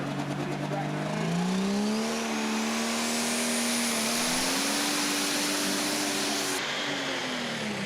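A super modified pulling tractor's engine roars loud and continuous as it races down the pulling track, its pitch climbing and holding high with steady revving throughout.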